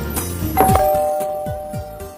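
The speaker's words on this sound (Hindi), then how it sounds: "घंटी बजा।" A doorbell chimes once with a bright sustained tone, followed by a couple of soft thuds in an otherwise quiet room.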